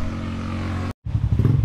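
Motorcycle engine running with a steady low drone, cutting out abruptly for a split second, then returning as rough, pulsing revs, close by.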